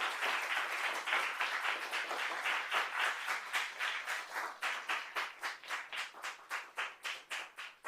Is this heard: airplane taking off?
no